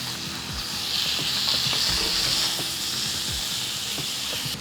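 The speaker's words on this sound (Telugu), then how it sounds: "ఇప్పుడు దీంట్లో మనం క్లీన్ చేసి పెట్టుకున్న చికెన్ వేసుకోవాలి." Raw cleaned chicken tipped into a hot pan of frying onions, curry leaves and masala for a tomato chicken curry, giving a loud, steady sizzle with bursts of stirring clatter throughout, no voices.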